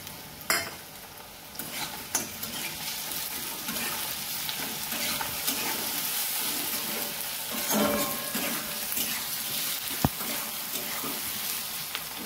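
Chopped ginger sizzling in hot oil while sambar is cooked, a continuous crackling fry with scattered clinks of a metal spoon and pan.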